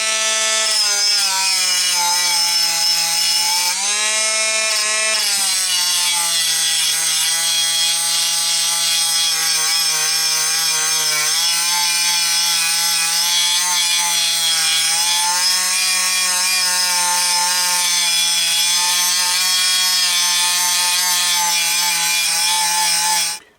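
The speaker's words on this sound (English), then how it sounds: "you may have noticed I had my Dremel, actually it's my Milwaukee tool, on at a very low speed" A Milwaukee rotary tool fitted with a wire brush scrubs rust off an engine heat shield at low speed, giving a continuous close buzzing whir with rasping, wavering pitch that cuts off at the end.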